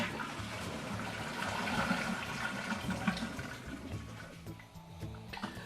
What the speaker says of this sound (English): you want to drain the toilet tank so that we have as much water out of the system as possible.